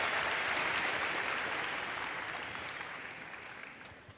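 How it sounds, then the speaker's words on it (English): A crowd at the MINECON 2013 Minecraft costume contest applauds, a broad, fairly distant roar of clapping that starts full and fades steadily over about four seconds. "Give him a huge round of applause."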